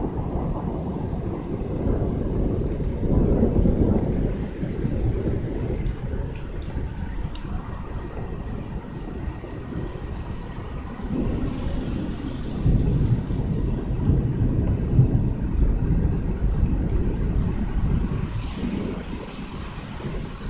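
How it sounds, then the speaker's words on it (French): Thunderstorm over Amiens as it moves off and weakens: a continuous, heavy low rumble with buffeting wind and rain noise throughout, swelling and easing in places, no voices. "L'orage nous quitte en étant beaucoup moins fort."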